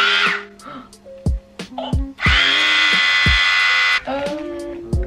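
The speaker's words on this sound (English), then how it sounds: "It says hair trimmer on the side. Lock on and lock off." A cordless electric hair trimmer buzzing in short bursts, then a steady close drone of a few seconds, with clicks and brief vocal sounds between runs.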